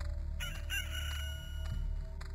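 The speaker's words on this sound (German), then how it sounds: "Der Hahn kräht" Rooster crowing in the video game Loop Hero, a single drawn-out cock-a-doodle-doo sounding fairly loud over a steady low game music and ambient bed, with no talking.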